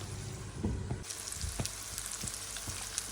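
Chicken masala pasta sizzles in a frying pan while being stirred, with light clicks and scrapes of a spatula over a continuous frying hiss, close up and fairly quiet.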